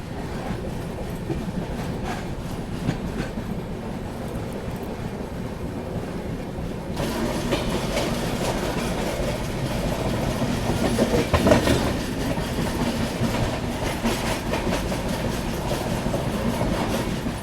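An Indian Railways train, the Mandovi Express, pulls out of Sawantwadi Road station with a continuous rumble and rolling wheel clatter that grows louder partway through, heard up close from inside the coach.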